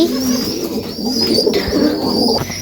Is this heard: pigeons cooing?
yes